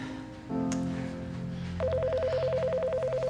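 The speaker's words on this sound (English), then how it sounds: "The phone, it's ringing." A telephone ringing at a design services office: a warbling electronic ring pattern comes in after a brief held tone and repeats rapidly and loudly, with no voices over it.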